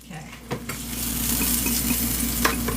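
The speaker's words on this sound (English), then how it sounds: "put your frying pan on hot long enough to melt the butter" Butter sizzles and crackles as it melts in a hot frying pan while making cabbage bread, a steady close hiss with a few clinks of utensil on pan near the start, no talking.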